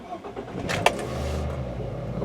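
A Toyota Corolla with new injectors and coils starts from cold in the morning: a brief cranking burst, then the engine catches quickly and settles into a steady idle nearby.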